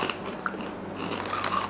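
A crunchy Korean paprika-flavored snack is bitten and chewed close up, giving a few sharp crunches over steady background noise.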